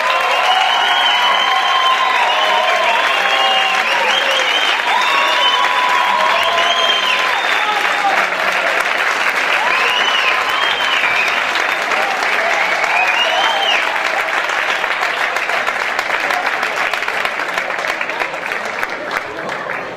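A large audience at a music competition final in Móstoles breaks into strong, sustained applause with some cheering, dense clapping that runs for about twenty seconds while faint voices sound underneath.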